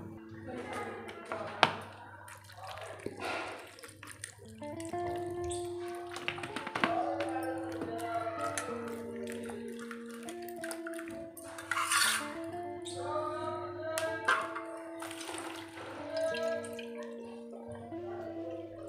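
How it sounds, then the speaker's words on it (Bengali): Mushrooms rinsed quickly in water in a home kitchen, with running tap water, splashing and clinking of a bowl or pot over about twenty seconds, moderately close and steady with occasional louder clatters. "এবারে মাশরুমকে সঙ্গে সঙ্গে জলে ধুয়েই তুলে নেব"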